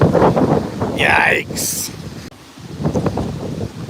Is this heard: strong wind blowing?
yes